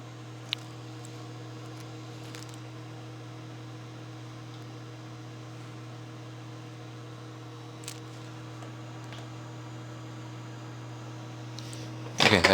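A microwave oven heats peanut butter to soften it, giving off a steady, even hum with a fan whir. The hum runs alone, and a brief clatter comes right at the end.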